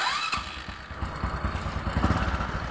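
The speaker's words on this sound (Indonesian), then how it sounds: "Kita hidupkan mesin." A Honda Supra 125 motorcycle engine turns over and catches, settling into a low, loud, steady putter up close.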